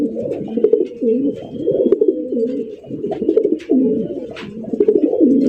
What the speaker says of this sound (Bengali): একদম বিশাল সাইজের মধ্যে পাওয়া যেতেছেন রেসার কবুতর জোড়াটা দেখেন